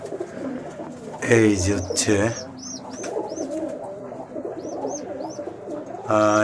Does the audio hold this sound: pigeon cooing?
yes